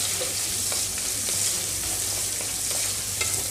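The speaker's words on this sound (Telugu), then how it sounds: "ఇట్లా ఉల్లిపాయలు మీడియం ఫ్లేమ్లో ఉంచి ఒక 3 నుంచి 4 నిమిషాలు మగ్గనిస్తే ఉల్లిపాయలు వేగిపోతాయండి." Chopped onions and green chillies sizzle in a pan over medium flame, a steady close crackling hiss with occasional stirring scrapes, alone without talk.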